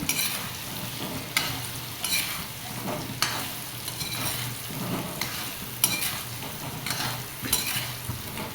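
Amla with red chili and turmeric gets stirred in a frying pan, a spoon scraping in regular repeated strokes over steady sizzling, close up with no talk.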